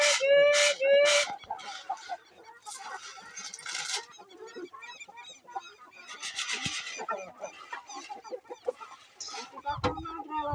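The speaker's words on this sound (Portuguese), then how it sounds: "Tem galinha." Chickens and a rooster clucking and squawking while being fed, a busy cluster of close calls with a brief crow near the start and a person speaking faintly underneath.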